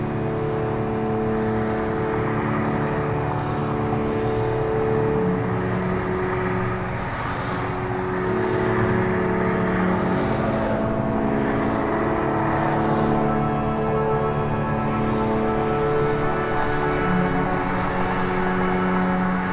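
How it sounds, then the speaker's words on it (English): Steady freeway traffic in Detroit, a continuous dense roar of many cars passing, with a few louder whooshes of individual vehicles rising out of the drone, no voices. "The constant dirge in the background of the cars swimming on the freeway"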